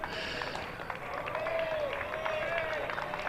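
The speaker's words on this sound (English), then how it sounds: "Oh, listen to the crowd at the far end." A county cricket crowd at the far end of the ground applauds a batsman, heard as a distant wash of clapping and murmur with talk over it.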